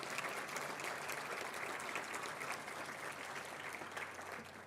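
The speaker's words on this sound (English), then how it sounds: "could we have a big round of applause for all of our sponsors?" Audience applause at a business event, a steady, dense round of clapping from a large crowd that holds for several seconds and fades slightly toward the end.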